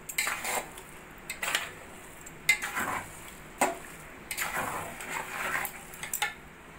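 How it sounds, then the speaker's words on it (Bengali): Chicken pieces for chicken tehari are stirred in a pot, with a spoon clanking and scraping against the metal in irregular strokes over a soft sizzle, no talking. "মাংসটা এইভাবে নাড়া দিয়ে ভালো করে মিশিয়ে নেব।"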